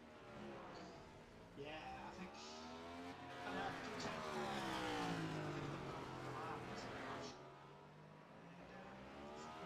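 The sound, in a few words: new generation Cup race car on track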